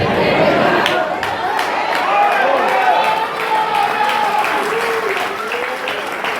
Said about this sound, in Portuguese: Esse aplauso aí é de presbiteriano.